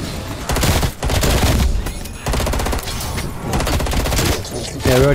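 Rapid sustained gunfire in the Cold War Zombies video game, dense bursts of automatic shots with brief pauses, loud and continuous under occasional player chatter.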